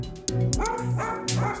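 Dogs barking up close, three loud yapping barks in quick succession with whining tones between them, no talk.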